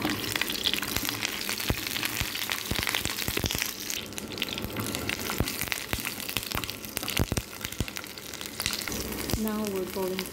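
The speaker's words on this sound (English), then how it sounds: "This one is olive oil. We're going to add our shallots." Shallots fry in olive oil in a pan, a steady crackling sizzle with sharp pops and occasional stirring scrapes throughout; a voice is briefly heard near the end.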